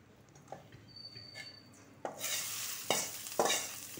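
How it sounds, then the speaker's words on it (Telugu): Spice tempering for a cucumber chutney bursts into a loud, crackling sizzle in a hot pan about halfway through, after a few soft clinks and stirs, then keeps spitting with sharper pops near the end. "చూడండి గుమ్మగల్ల మళ్ళీ ఆడుతున్నది పోపు."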